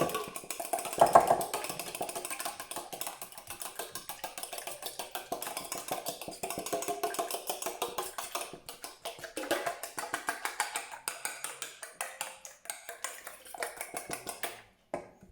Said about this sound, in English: give it a bit of a whisk